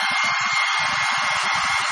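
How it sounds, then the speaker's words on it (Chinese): A hair dryer blows a washed milk carton dry in a Japanese home. Its loud, constant hiss fills the whole moment, with faint muffled low murmurs underneath. "看吹风机。"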